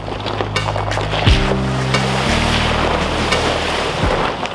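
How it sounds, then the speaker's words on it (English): An overland truck fords a serious water crossing, its engine droning low through steady rushing water and wind buffeting, with a gear-change shift in the engine note partway through; no talk. "we got a pretty serious water crossing right here"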